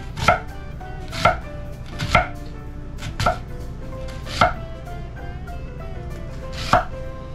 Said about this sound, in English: we're going to go ahead and chop up the onion